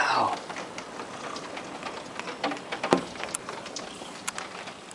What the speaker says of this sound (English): What do you think of the hail, Pinky?